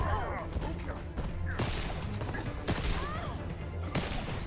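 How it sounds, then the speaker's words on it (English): Repeated gunshots and rapid fire ring out during an Injustice 2 fighting game tournament match, sharp bursts at irregular intervals layered over busy game effects and commentator talk. "Taking a gunshot here over and over again to the face"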